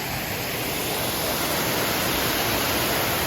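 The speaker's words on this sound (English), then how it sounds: "What do you think of the waterfall?" A waterfall on a family trip among monarch butterflies roars as a dense, even rush of falling water, loud and steady throughout with no voices over it.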